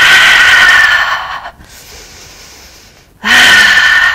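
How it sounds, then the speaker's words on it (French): Slow yoga breathing at close range: a long, strong breath, a quiet pause, then another forceful breath begins, in through the nose and out through the mouth during a morning flow. "Inspire par le nez, expire par la bouche."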